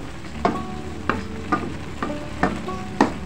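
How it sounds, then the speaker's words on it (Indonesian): Potato croquette filling with sweet soy sauce is stirred in a pan, and a spatula clacks sharply against the pan about every half second over a low, steady frying sizzle. It is close by and no one speaks. "Kita aduk lagi."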